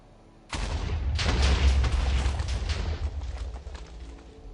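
A loud explosion erupts in a video game and keeps booming and rumbling for several seconds, a dense, roaring blast with no talk over it.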